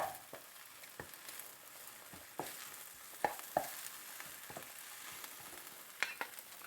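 Greens seasoned with salt and pepper fry in a pan with butter, giving a low steady sizzle broken by scattered scraping and clicking stirs, quiet and without voices.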